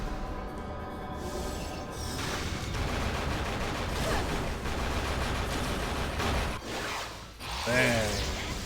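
Pistol shots in the video game The 3rd Birthday, with dense gunfire and mechanical clatter over a continuous busy mix, fairly loud throughout.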